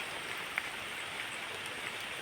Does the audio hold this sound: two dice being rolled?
no